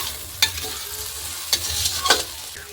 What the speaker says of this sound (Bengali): এখন এটা ভালো করে নাড়াচাড়া করে